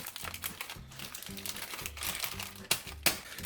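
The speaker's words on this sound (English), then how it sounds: "So you're gonna wanna unwrap the cheese." Cheese being unwrapped from its plastic packaging for grilled cheese, giving close crinkling and crumpling with two sharper rustles near the end, over a faint background tune.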